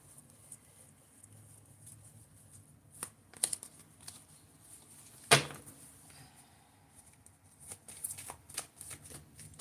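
A deck of playing cards riffled and shuffled close by, soft papery flutters with a few sharper snaps and one loud slap midway, quiet between bursts and no voices.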